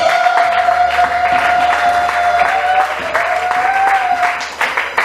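Church congregation applauding and cheering for Jesus during a French-language sermon, loud sustained clapping and crowd noise with a high ululating cry running through, voices mixed in.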